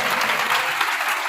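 A church congregation at an evening prayer and preaching service applauds together to acclaim Jesus, a dense, steady wash of clapping filling the room at close range with no voices standing out.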